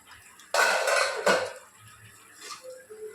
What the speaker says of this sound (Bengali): ঢাকাটা খুলে দেখে নিচ্ছি